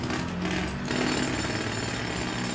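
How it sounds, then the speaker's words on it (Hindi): A drill breaks stone in a horror story scene, a loud, steady, rapid hammering rattle that continues without pause throughout. "एक आदमी ड्रिल लिए हुए पत्थर तोड़ रहा था।"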